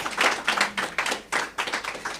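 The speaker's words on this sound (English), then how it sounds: "Let's get a round of applause again for all of our nominees" Applause for award nominees at an award ceremony, made of a few distinct, close hand claps in an uneven rhythm, not a full crowd ovation.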